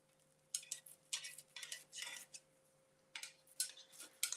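A spatula scrapes and clatters against a skillet in short metallic bursts while a cabbage and egg pancake is worked loose, with pauses between the strokes and a faint steady hum underneath.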